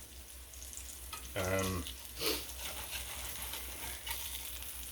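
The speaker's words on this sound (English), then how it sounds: "Right now we're cooking this hamburger." A store-bought hamburger patty sizzles and fries in a pan, a steady crackling hiss with a brief louder scrape and stir, while a voice briefly murmurs.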